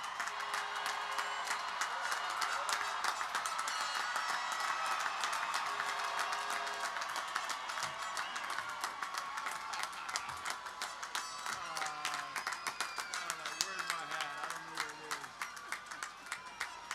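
A graduation crowd applauds the class of 2024 at a high school ceremony, with dense, sustained clapping that stays loud throughout and has music and voices mixed into it.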